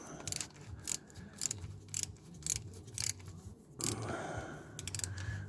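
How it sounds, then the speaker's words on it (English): A 10mm socket and ratchet loosen a bolt on the clutch slave cylinder of a Mini R53, giving close, irregular clicking and scraping bursts in a quiet garage space. "I'll just loosen that one and then I'll bob it up and behind"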